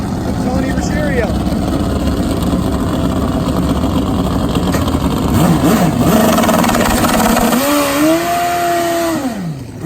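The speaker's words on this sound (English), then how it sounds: "Another awesome turbo bike coming up." A turbo drag bike and a nitro Harley roar at a drag strip, loud engines revving and rising in pitch as they race, with an announcer talking over the noise.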